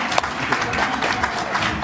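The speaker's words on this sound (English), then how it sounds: "Give a round of applause," A crowd at a learning centre graduation ceremony applauds a graduate, a continuous, even patter of many hands clapping, moderately loud with no voices standing out.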